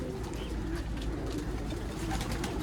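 A rooftop pigeon coos in a steady, continuous low burble. The bird is a long-kept flying pigeon. It sits close and fairly loud, with no talk over it.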